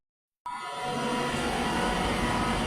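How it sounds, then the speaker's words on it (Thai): A passing train, watched from a walk along the line, sets in abruptly as a steady, broad rumbling roar that stays loud and close throughout, with no talking. "พาพี่น้องมาเดินเล่น ดูรถไฟกันเนาะ"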